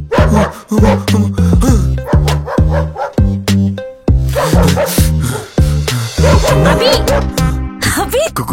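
Dogs bark repeatedly and loudly nearby in rapid bursts, with yips and whines between barks and little pause.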